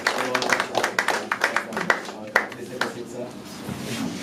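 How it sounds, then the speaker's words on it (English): Audience clapping at a celebratory gathering, uneven claps and taps with some distinct loud hits, overlapped by a voice talking throughout. "Come on, keep clapping."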